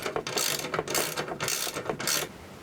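A ratchet tightens screws and bolts on the mount of an Aeromotions R-Static wing for an FRS, a series of quick close clicking bursts in steady rhythm, loud and alone.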